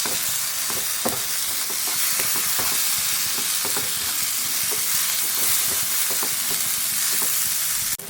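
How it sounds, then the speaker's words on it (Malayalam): Chopped tomato sautéing in masala in a pan for fish pollichathu, a steady close sizzle and hiss with rhythmic scraping stirs throughout, no talking. "ഒരു തക്കാളി ചെറുതാക്കി അരിഞ്ഞതാണ്, അതുകൂടി ഇതിലേക്ക് ചേർത്ത് ഒന്ന് വഴറ്റിയെടുക്കാം"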